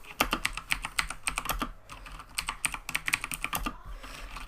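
Rapid, uneven clattering of keys on a Razer BlackWidow Ultimate mechanical keyboard, close and crisp, in bursts with a brief pause partway through and no speech.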